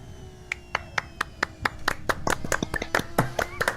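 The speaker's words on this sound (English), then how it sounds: "Can we get a soundboard clapping effect" Sharp separate hand claps, first spaced out and then quickening into a ragged burst of clapping, heard at a finale celebrating an F1 racing league season championship win, with faint talk beneath.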